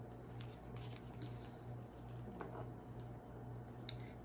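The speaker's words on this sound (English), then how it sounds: "I don't mind shuffling again for the people that like to view us shuffling our cards" Tarot cards being shuffled by hand in a quiet room, a soft, steady papery riffling and sliding that continues throughout at low level beside a faint background hum.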